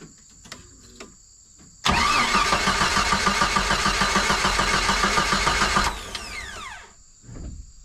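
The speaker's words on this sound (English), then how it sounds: "Got my compression tester on cylinder 4. And I'm going to crank it over a couple times here." A Jeep YJ engine cranks over with its plug wire off during a compression test on cylinder 4, a loud rhythmic starter churn lasting about four seconds, with quieter clicks and handling noises before and after.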